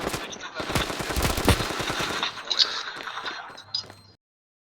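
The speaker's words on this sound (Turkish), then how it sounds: "su içinden mermi geçiyor" Rapid automatic gunfire from the Standoff 2 video game, dense bursts of shots with sharp cracks, loud and close, tapering off toward the end with scattered hits and a brief low hum.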